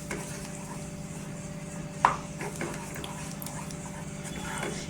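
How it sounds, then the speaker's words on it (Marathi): A spoon scrapes and clinks against a pan, stirring a pumpkin mixture with ghee over low heat, with one distinct knock and soft scraping under a faint background hum. "आता गॅस स्लो करायचा आणि छान असं मिक्स करून घ्यायचं."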